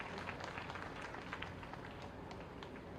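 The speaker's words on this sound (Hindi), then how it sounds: "जोरदार तालियां।" Dense audience applause at a public event in Varanasi launching a school enrollment campaign, a steady wash of many hands clapping throughout, moderately distant and quite faint.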